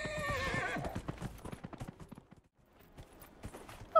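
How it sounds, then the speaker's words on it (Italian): A horse in the video game Dragon Age: Inquisition lets out a loud whinny, then its hooves clip-clop in a quick galloping rhythm that slows and fades before a final snort. "Galoppa cavallo, galoppa!"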